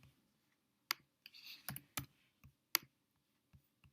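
Sparse, uneven keystrokes on a computer keyboard, a few separate clicks and a short burst of faster presses, heard close in a quiet room with no talking.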